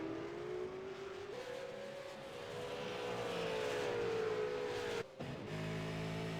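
V8 Supercars race cars at Virginia roar loudly as they accelerate out of corners, engine note climbing steadily with a brief gear-change dip near the end, continuous and close.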